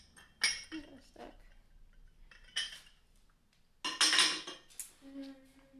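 Fired ceramic dishes being unloaded from a kiln, a few scattered clinks and scraping knocks of pottery set down or stacked, close by and spaced apart.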